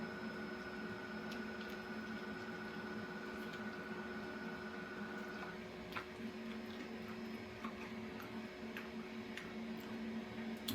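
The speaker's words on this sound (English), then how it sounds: "that's just the old printer going." An old printer runs in a home kitchen, a faint, steady mechanical hum with light ticking and clicks spread throughout, quiet and continuous with no talking.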